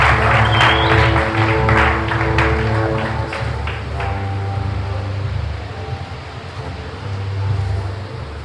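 A congregation at a church service claps, with dense, rapid hand claps loud for the first few seconds, then thinning into a softer murmur over a low, steady hum.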